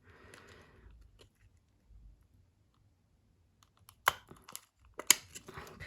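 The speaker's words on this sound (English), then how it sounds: "you're just gonna punch that. Just be careful because you don't want to like tear the plastic." A hole punch tool presses through a small shrink-plastic charm, heard as a few sharp clicks and crinkles near the end after quiet handling noises.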